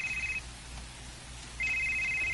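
A cellphone ringtone plays a steady electronic tone, pauses for about a second, then resumes, fairly quiet over a soft background hum in a room.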